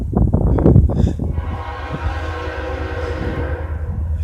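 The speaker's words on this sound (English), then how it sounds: "Here comes our first train." A Union Pacific freight train rumbles past nearby in Daleville with a deep, continuous roar, a horn-like tone sounding over the heavy rolling noise of the cars.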